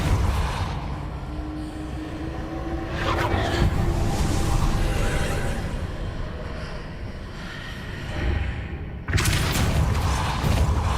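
Depulso spell cast in the Hogwarts Legacy video game: a loud, rumbling magical blast that swells and sustains, then breaks off into a sharp, bright burst near the end.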